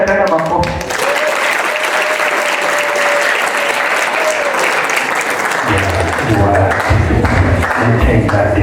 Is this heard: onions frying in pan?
no